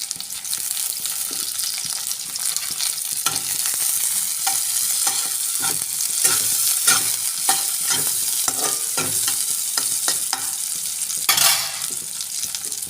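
Capsicum fries and is stirred in a pan while making a simple egg curry, a steady hiss of sizzling oil running throughout with repeated scraping clicks from the spoon against the pan.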